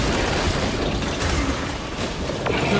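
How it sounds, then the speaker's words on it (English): A bolt pistol fires in the Warhammer 40K Space Marine 2 video game, heavy mechanical shots and clanks among a dense, loud battle din, with sharp reports standing out near the middle and end. "It's it's up to the bolt pistol to do the job."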